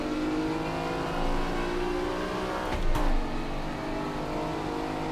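Lamborghini Diablo engine racing in the video game Assetto Corsa, a sustained high-revving drone with steady harmonic pitch, loud and close, with a brief surge and shift around the middle and no talking.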